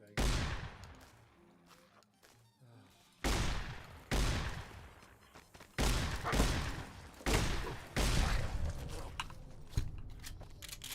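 Shotgun blasts in Fallout: New Vegas, five heavy booming shots spaced a second or two apart, each decaying into rumbling echo, loud and close with no talking.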